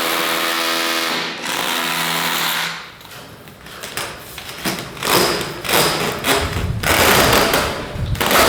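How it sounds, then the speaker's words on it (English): Rotary hammer drilling into concrete or tile during a home renovation in Mexico, a loud buzzing drone that cuts out near three seconds, followed by irregular percussive bursts and knocks that run close and loud to the end. "turns out I could go get a rotary hammer"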